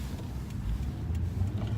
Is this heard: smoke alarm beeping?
no